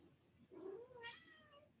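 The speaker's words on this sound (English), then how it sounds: "Can you hear the kitty? She has to make a cameo." A pet cat gives one drawn-out, rising-then-falling meow, soft and somewhat distant, in a quiet room during a restorative yoga session.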